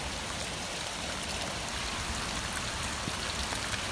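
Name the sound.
garden water flowing over stones like small waterfall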